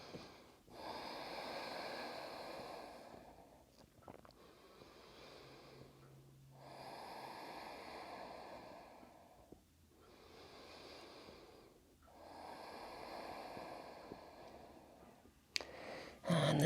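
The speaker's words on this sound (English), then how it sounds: "Take 3 deep breaths." Three slow deep breaths taken during a yoga upper-body flow, each long nasal inhale and exhale close and audible, with quiet pauses between cycles.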